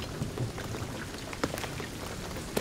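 Steady rain falls in the video game Shadow of the Tomb Raider, a soft, even hiss with scattered heavier drops tapping on surfaces, quiet and continuous with no voices.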